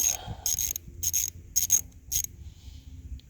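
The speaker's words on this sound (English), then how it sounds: "So got me a 11/32 wrench here. I'm going to take this off." An 11/32 wrench turns a grease fitting loose, giving a series of sharp, squeaky ratcheting bursts, four or five in a rough rhythm, close and fairly loud, then quieter fiddling; no talk.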